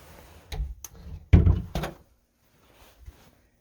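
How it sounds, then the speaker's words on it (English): A door inside a church swings shut, with a few light knocks and handling sounds before a heavy, close thud and a short rattle, then quiet room tone. "So I'm gonna go ahead and close this door."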